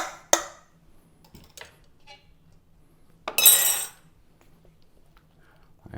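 Grated carrots for coleslaw are mixed in a bowl: a few sharp clinks and scrapes of a utensil against the bowl, then a brief rustling toss, with quiet gaps between the sounds.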